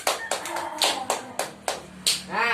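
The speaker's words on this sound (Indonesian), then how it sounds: "beri tepuk tangan pada kelompoknya Api" Schoolchildren in a third-grade classroom clap for a group in several quick, sharp bursts, nearby and fairly quiet, with no talking over it.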